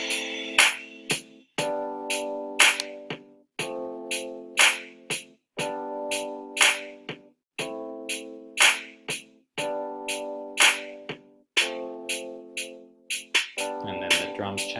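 A hip hop beat from a virtual drummer plugin repeats a steady looping pattern of punchy kicks, snappy snares and crisp hats over sustained tonal hits, loud and close with no voices.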